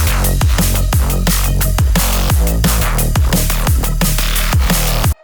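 A driving electronic beat with steady kick and snare hits over sustained bass and synths, the snare without sidechain, playing continuously at a constant loud level with no pumping.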